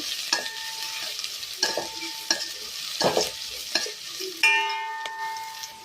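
Onions frying in oil for a Tulu-style uppad pachchil sukka, with a steady sizzle under repeated scrapes and clinks of a spatula stirring the pan at a roughly regular pace, close by.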